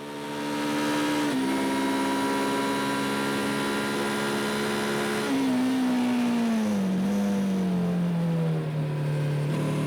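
A Kawasaki KLE500 SE motorcycle holds a high, steady engine whine at speed, then drops sharply as it brakes hard from 160 to 90, the pitch sliding down and settling lower, loud and close with no talking.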